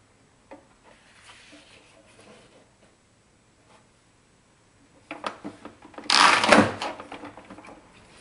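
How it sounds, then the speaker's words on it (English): A paper cutter blade comes down through a thick stack of art book or magazine pages trimmed to 8 inches, giving one loud, close crunching slice after several seconds of faint handling noises. "I'm just going to bring this edge down and cut, and see how that cuts that entire stack"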